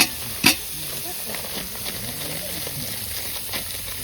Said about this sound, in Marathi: तर आता जाळबिळ आईने भरपूर लावलाय आणि कांदा आता परतून घ्यायचा आहे